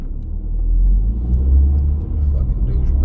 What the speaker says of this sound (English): Look at this douchebag in his squatted truck